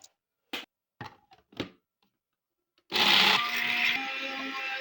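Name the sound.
blender grinding dried plantain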